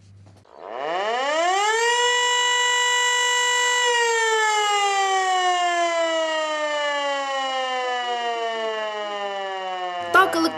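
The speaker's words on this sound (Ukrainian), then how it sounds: "сирена сповіщає про надзвичайну ситуацію" A civil defense warning siren in Cherkasy, Ukraine, winds up from a low growl into a loud sustained wail, holding steady and slowly sagging in pitch over several seconds.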